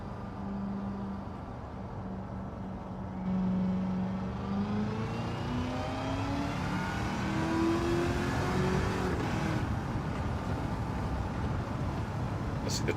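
Race car engine in Gran Turismo 7 at the Red Bull Ring, a high-torque car revving and pulling up through gears with rising, sweeping pitch, steady and close, under a commentator's talk.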